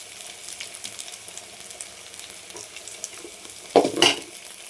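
Crushed ginger and garlic hit a hot pan for a chicken gravy, giving a soft steady sizzle with light clatter, then a louder burst of frying and stirring near the end, close and without speech.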